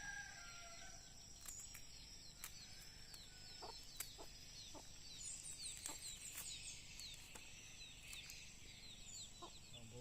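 Several chickens cluck and chirp softly at a distance, with scattered calls over a quiet outdoor background.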